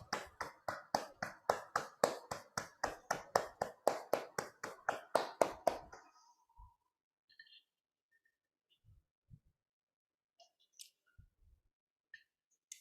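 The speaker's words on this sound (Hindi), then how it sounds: "जोरदार तालियों से इस ऊर्जा को पूरे विश्व में फैलाएं।" Meditation participants clap loudly and rapidly in a rhythmic burst of about twenty claps, then it stops abruptly, leaving near silence with a few faint scattered taps and clicks.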